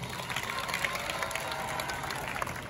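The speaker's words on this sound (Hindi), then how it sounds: "इस बात पे तालियां होनी चाहिए।" A gathering at a World Cleanup Day event in Noida breaks into applause, a moderate, steady patter of many hands with some crowd noise.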